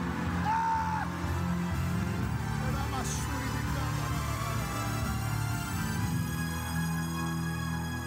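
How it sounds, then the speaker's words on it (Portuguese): A church congregation loudly shouting glory to God, a dense crowd of yells, whoops and cries blending into a sustained roar for several seconds, close and forceful. "Dê um berro de glória a Deus bem forte."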